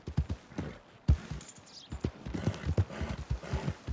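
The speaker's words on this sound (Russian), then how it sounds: "Если лошадь будет быстрее, если сейчас во время галопа" A horse gallops in Red Dead Redemption 2, rapid rhythmic hoofbeats thudding close and clear on the ground, with a brief snort and faint ambient sounds between strides.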